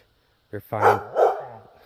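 Two or three sharp barks from a dog at an off-grid campsite, close and loud, with a person speaking briefly among them.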